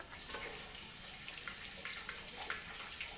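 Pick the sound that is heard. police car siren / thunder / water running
water running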